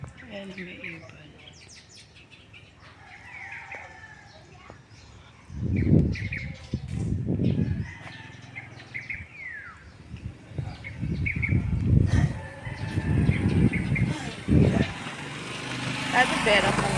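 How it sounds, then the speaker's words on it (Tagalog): Birds chirp in scattered bursts outdoors while someone walks to pick moringa leaves, with voices talking over much of it and faint engine noise behind. "Ayan, may ibon."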